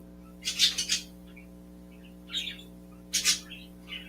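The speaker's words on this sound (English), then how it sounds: "I hear the birds." Outdoor birds chirp in two short bursts of bright, quick tweets, fairly near, over a steady low background hum on a pleasant day.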